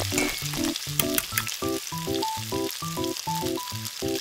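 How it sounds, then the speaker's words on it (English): Beef stir frying in a hot pan with oil, garlic and onion, sizzling steadily and close while a light rhythmic musical backing plays over it. "Pour in beef and stir fry."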